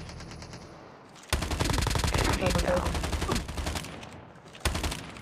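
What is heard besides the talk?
gunfire in Call of Duty video game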